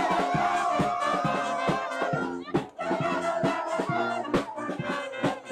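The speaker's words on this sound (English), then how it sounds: "Huge crowd. Lots of young people singing, dancing, playing music" A huge crowd of young people at a youth event in Paris sings together in a loud, continuous chorus with music, steady and dense with occasional sharp accents.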